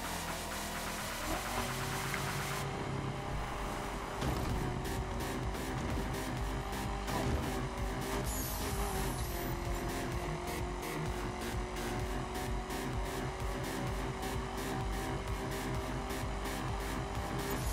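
A car in the video game The Crew, driven through Miami at night, roars at full throttle as a steady, loud engine drone that holds under busy game sound for the whole stretch, with no talking.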